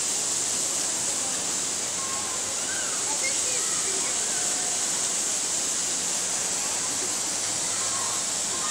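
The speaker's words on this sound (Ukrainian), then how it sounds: "фонтан запрацював тільки ще" A park fountain running in a residential complex on May 1, giving a steady, broad wash of splashing water that fills the whole clip at a constant moderate level, with faint background activity.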